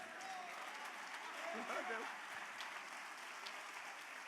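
A church congregation applauds during a sermon, producing a faint, steady wash of clapping with a brief vocal murmur in the middle.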